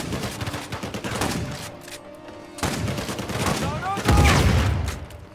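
Heavy gunfire and booming shots from the video game Uncharted 4, a shotgun among the weapons, loud and dense with bursts and a big blast near the end, with someone talking excitedly over it.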